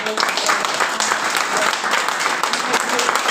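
Audience applause at a Turkish CHP political gathering, a dense continuous patter of many hands, loud and close, with a voice speaking over parts of it.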